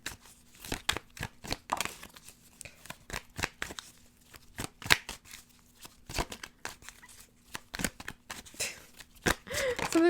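Tarot cards being shuffled by hand, a run of papery riffles and soft slaps in irregular bursts, close and fairly quiet, with no talking.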